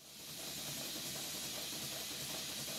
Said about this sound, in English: This boiler powers a twin Stuart Victoria,